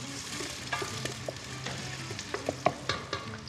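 Onions fry in a pan with a steady close sizzle, broken by crackles, pops and stirring scrapes.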